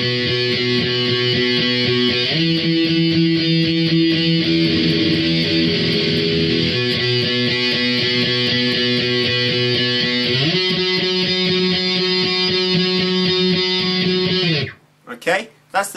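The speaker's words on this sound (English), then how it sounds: "then right from the start of this verse, it'll just sound like this then." Distorted electric guitar plays the verse, a loud steady strummed riff with chord changes for about fourteen seconds, then stops as a voice begins speaking.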